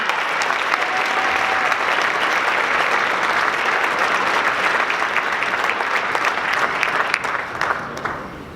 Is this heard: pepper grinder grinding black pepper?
no